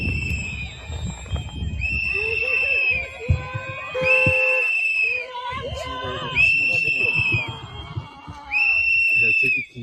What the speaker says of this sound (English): idiots are out there in the bitter cold blowing whistles